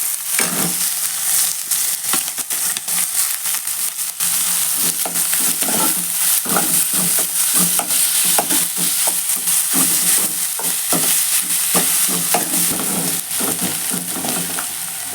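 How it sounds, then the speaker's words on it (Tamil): Onions sizzle and fry steadily in a pan for an egg gravy, with frequent scraping strokes of a spoon stirring through them; a continuous close crackle with no talking. "இப்போ பெரிய வெங்காயம் சேர்க்குறேன்."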